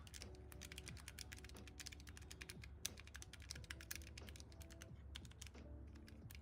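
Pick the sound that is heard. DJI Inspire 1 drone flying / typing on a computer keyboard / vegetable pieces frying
typing on a computer keyboard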